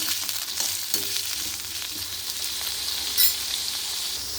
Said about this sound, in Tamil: ஒரு 6-7 நிமிஷம் நல்லா வதக்கி எடுத்துக்கலாம்